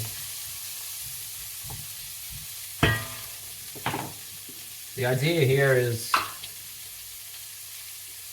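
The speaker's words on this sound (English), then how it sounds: "bang in carrot, onion and celery. And we want to be frying, right?" Carrot, onion and celery fry in a pan with a steady background sizzle, broken by a few stirring scrapes and short bits of talk.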